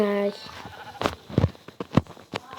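A short Minecraft sheep bleat opens, followed by clicks, thuds and other busy game sounds with talking mixed in.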